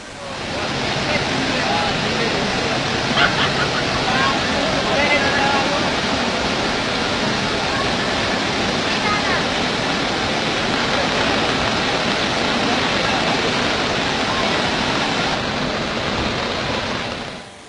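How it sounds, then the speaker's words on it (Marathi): Monsoon waterfalls at Bhandardara roar in a loud, dense, unbroken wash of rushing water that fills the whole stretch at an even level. "आणि रोमांचित करणारा धबधब्यांचा आवाज"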